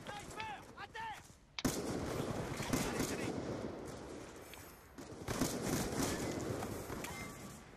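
Sniper rifle fired rapidly in a video game, a loud burst of gunfire with sustained reports and reverberation, following a brief quiet stretch with a faint electronic sound.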